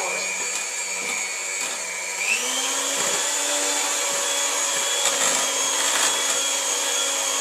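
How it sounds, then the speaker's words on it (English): An electric mixer whirring steadily through Victoria sponge cake batter, a loud continuous motor whine that shifts up in pitch partway through. "this mixer. Super fast."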